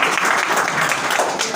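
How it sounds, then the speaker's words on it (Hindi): Congregation clapping loudly for a girl during a Sunday church service, a short, dense and close burst of applause. "बेटी के लिए जोरदार तालियां करें"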